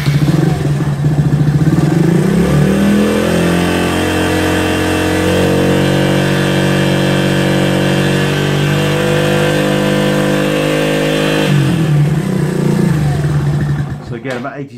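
A farm motorbike engine runs loud and close, holding a steady high drone that rises as it revs, then winds down near the end.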